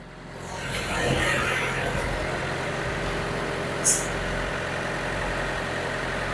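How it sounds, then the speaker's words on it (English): A truck's engine idles and drones as the vehicle is eased forward on a Florida-to-Denver meals-on-wheels food donation run. The steady, mid-low rumble swells slightly after a second and holds, with a brief click near the middle. "We're going to go ahead and move the truck forward."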